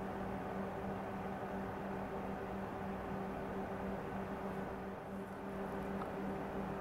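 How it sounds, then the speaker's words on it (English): A CPU cooling fan runs steadily beside a graphics card at about 38% fan speed, giving a faint, continuous broadband whoosh with a soft low hum throughout and no other sounds. "the noise you hear right now is just the Fantex CPU fan"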